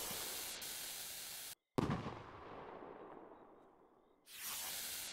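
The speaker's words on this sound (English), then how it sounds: "It's a really good starting rocket." A firework rocket in the video game Fireworks Mania bursts with a sharp crack after a brief silence, then crackles and fades over a few seconds before a steady hiss returns.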